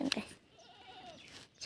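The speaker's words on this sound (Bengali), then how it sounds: "আপনাদের আগে আমাদের ছাগল বাছুরটা দেখতে" A young goat kid gives one short, thin, wavering bleat in the middle, fairly faint, after a brief burst of a nearby voice at the start.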